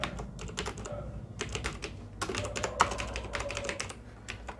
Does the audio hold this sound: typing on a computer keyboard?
yes